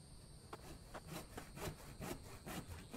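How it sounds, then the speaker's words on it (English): Rhythmic back-and-forth rasping of a saw cutting wood into planks in a video game, a soft even series of strokes at moderate distance with no talk. "I hear it sawing."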